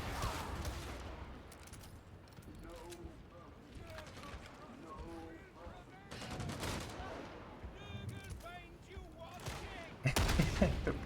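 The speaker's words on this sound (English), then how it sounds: "Nice spot for the Ripper gun there" Ripper gun fire from an Ogryn in Warhammer 40K Darktide, a chattering, rapid volley of heavy shots in uneven bursts amid game combat noise and voices, with a louder blast at the end.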